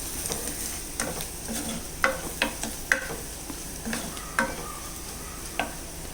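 Turmeric and chilli powder sautéed in a pan for tomato curd curry, a soft continuous sizzle broken by repeated scraping stirs of a spoon across the pan, close and fairly quiet.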